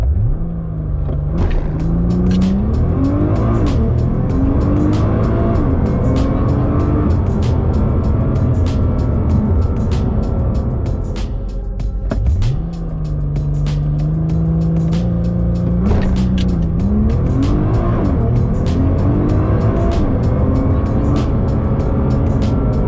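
A 630bhp Nissan GTR launches hard on a drag strip, its engine note climbing through gears in loud, close rising sweeps, dropping briefly at a shift and surging again, with crackles over a constant roar and no talk.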